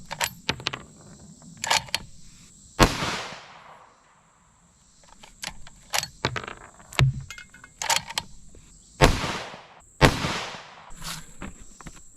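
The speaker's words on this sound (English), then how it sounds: "Alright, see if I can get 5 good shots here." A rifle fitted with a TMB "Chad" muzzle brake fires at close-range targets: several loud, sharp blasts with short ringing tails, spaced irregularly between quieter clicks and handling noise, with no talking.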